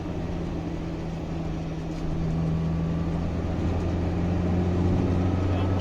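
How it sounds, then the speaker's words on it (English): Porsche 924 engine pulling uphill in third gear, a steady low droning hum with harmonic bands that strengthens slightly partway through, heard from inside the car with no talking. "Engine's nice and torquey, making this hill climb a non-issue."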